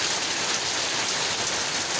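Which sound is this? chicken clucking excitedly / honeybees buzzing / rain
rain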